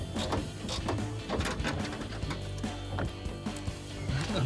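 A deep socket tightens nuts on a rear spoiler on a 2011-2023 Dodge Charger R/T, with rapid metallic ratchet clicks and clanks repeating in short, uneven bursts, close and fairly loud, with no talking.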